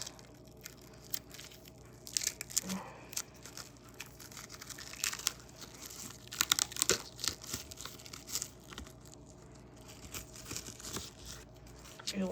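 Plastic wrapping is torn and crinkled off a lithium-ion battery for a Ya Link cordless headset, with irregular crackling bursts and rustles over several seconds, loudest near the middle.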